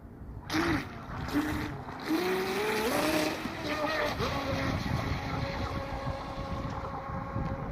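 A small Blackjack 24 RC model boat motor whines and buzzes continuously with water splashing, the pitch rising and falling as the boat speeds along on its first run; faint voices in the background.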